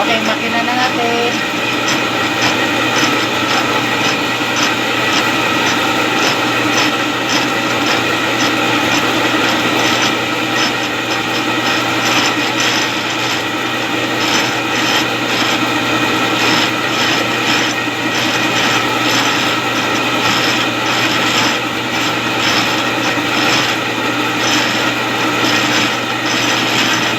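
A dough machine kneading soft bread dough for turtle-shaped pagong bread, loud continuous mechanical whirring and rhythmic grinding, steady and close without pause.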